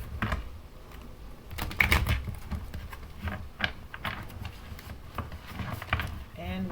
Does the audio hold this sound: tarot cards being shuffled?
yes